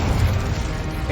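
Confringo explosive spell blast in the Hogwarts Legacy video game, a loud, low, rumbling burst that fills the moment with heavy booming energy.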